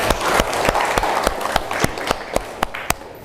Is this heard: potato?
no